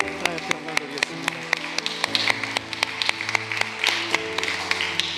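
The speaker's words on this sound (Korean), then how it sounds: "우리 박수로 하나님께 영광 드리겠습니다" A church congregation at a Sunday worship service applauds, a brief scattered clapping that blends with music and sustained tones in the room.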